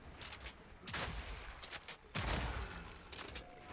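Crossbow grenades burst in Path of Exile 2 as a few quick, muffled explosive booms in clusters, fairly faint and spaced across a short stretch with low rumbling between.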